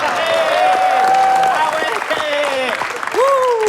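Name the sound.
audience applause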